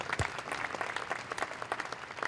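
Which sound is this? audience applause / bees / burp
audience applause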